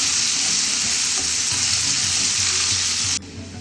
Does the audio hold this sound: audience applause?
no